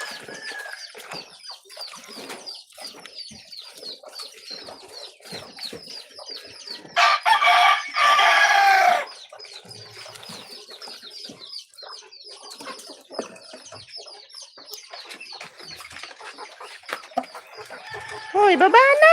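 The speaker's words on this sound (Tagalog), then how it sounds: "Ito naman sa mga native na manok." Native chickens cluck and crow around a feeding spot, many scattered calls overlapping at close range, with a loud flurry of flapping or scratching partway through and occasional human voices nearby.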